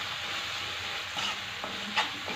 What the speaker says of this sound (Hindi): सारे मसाले हमने ले लिए हैं, इसको भून लेते हैं